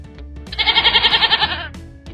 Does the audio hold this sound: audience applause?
no